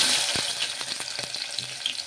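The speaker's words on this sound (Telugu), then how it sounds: "నూనె వేడెక్కిన తర్వాత జీలకర్ర ఆవాలు అయితే వేసుకుందాము." Cumin and mustard seeds with onions hit hot oil, giving a brief, fairly quiet crackling sizzle with scattered sharp pops, heard up close.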